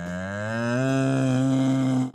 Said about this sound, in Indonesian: Wow, ini masih ada sapi teman-teman.